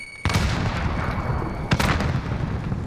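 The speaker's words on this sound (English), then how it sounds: "Throwing grenade." A grenade detonates in the Warzone battle royale game: a sharp, loud blast that rings into a dense rumbling wash of game noise, with a second booming hit about a second and a half later.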